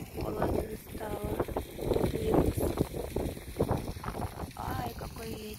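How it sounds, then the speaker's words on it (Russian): Gusty wind buffets the microphone in uneven bursts as a person speaks close by. "Ай, какой ветер."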